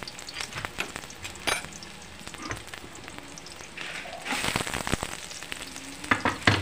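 Chicken pieces frying and browning in a home pan for ginataang manok, a steady crackling sizzle punctuated by scraping stirs, growing louder and busier toward the end, with no talking.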